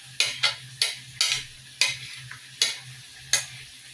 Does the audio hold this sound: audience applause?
no